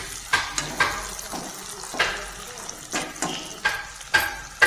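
Pieces of elephant apple (ou tenga) fry in a pan in a village-style Assamese kitchen, a close, steady sizzle broken by repeated scraping stirs.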